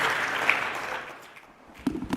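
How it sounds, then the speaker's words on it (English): Applause from the audience for a panel at a ministerial seminar during CTU's ICT Week in Jamaica, 2025: a dense, steady clatter of hands that gradually fades away, followed by a few scattered claps near the end. "give them a round of applause as we get to wrap up"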